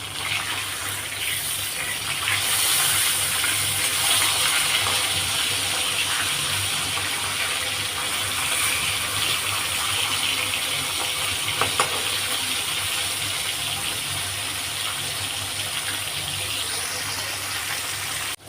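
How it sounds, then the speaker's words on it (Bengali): Rui fish sizzles steadily in hot oil in a pan, a dense, close, even crackling hiss that runs unbroken throughout with a few faint pops. "এবারে মাছটাকে উল্টিয়ে দেবো।"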